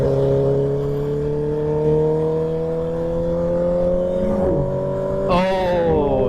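Car engine with steady harmonic drone climbing slowly in pitch, then a sharp rev surge near the end, close and loud with a voice briefly over it.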